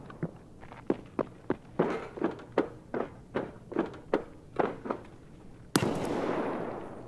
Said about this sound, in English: They're like trying to shoot through the wall.